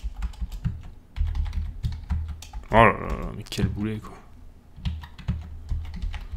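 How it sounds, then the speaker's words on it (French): An old computer keyboard clatters with fast, close, uneven bursts of key clicks, broken by a short pause while a man exclaims in French before the typing resumes. "Il faut absolument que je change de clavier, mon clavier il commence à vraiment être vieux."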